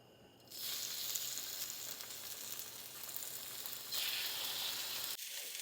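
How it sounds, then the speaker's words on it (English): Chicken breast hits a sprayed grill pan and sizzles loudly and evenly, a close, continuous hiss that swells briefly midway and cuts off sharply near the end. "I'm going to put that on my grill pan"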